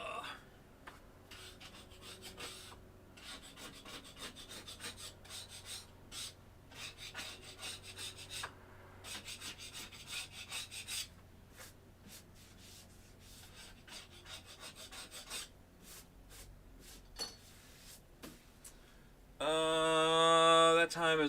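A scraper rasps over carbon fiber in repeated short rubbing strokes, moderately close and fairly quiet throughout, ending in a louder steady mechanical whir.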